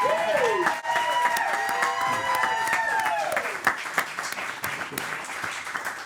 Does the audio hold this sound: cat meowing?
no